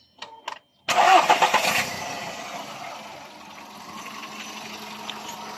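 After a major service, a Volkswagen Polo Vivo's engine cranks briefly, catches with a loud rev, then settles into a steady, quieter idle.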